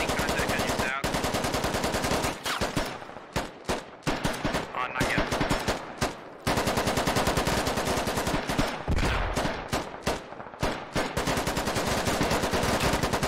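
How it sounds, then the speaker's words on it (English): Heavy enemy AK fire in the video game Squad, rounds striking and bouncing close by: sustained automatic bursts, loud and near, broken by short gaps and then resuming in long rattling strings. "You can see you can hear the rounds bouncing off pretty close here."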